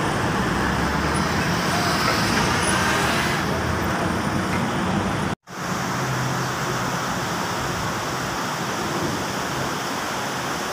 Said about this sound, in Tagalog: Ayan yung mga malalaking truck na mga distributor nila.